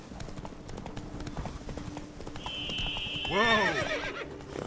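Roach, the horse in the Witcher 3 video game, gallops with quick clip-clopping hooves, then lets out a loud, wavering neigh. Someone talks over the game sounds.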